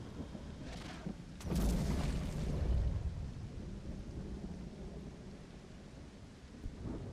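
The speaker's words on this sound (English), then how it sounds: "Man, a lot of rain." Video game thunderstorm with steady rain hiss throughout and a loud rolling thunder crash near the start that swells and fades over a few seconds, no talking.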